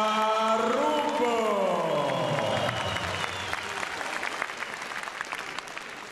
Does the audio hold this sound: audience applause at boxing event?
yes